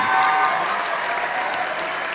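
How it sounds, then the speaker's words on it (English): Dense, loud applause fills a college convocation hall for graduates of a graphic design program, steady clapping from a large audience throughout. "please give a round of applause for graduates from the Graphic Design program"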